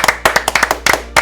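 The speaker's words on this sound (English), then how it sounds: "Let's give it a round of applause." A few people clap sharply and irregularly up close on a small sports talk show set, the individual claps distinct and spaced, without speech.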